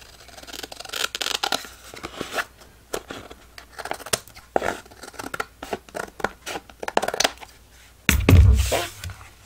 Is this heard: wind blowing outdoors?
no